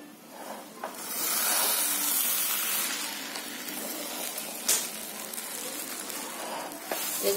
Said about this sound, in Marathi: आता आपण मध्येच आहे ना असं झाकण काढून जरा म्हणजे ढवळून घ्यायचं